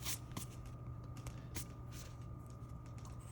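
A pencil drawing is rubbed out with an eraser in quick, soft scrubbing strokes against paper, up close and faint, over a steady low hum.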